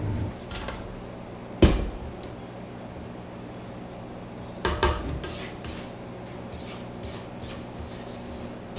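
A spatula scraping down a mixing bowl of lemon sugar cookie batter with lemon zest, giving soft rubbing scrapes and two sharper knocks against the bowl, close and quiet with no talk.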